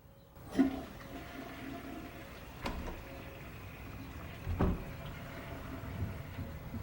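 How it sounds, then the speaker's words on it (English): A toilet flushes in a tense film scene from No Country for Old Men, a faint watery rush with soft thuds and knocks in a quiet room, heard at a distance. "How many people have been saved by a flushing toilet in the movie?"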